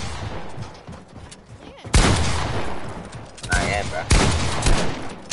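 Flintlock gunshots in a video game: sharp, loud reports near 2 s and around 4 s, with a cluster of blasts and shorter cracks. Someone talks casually between the shots.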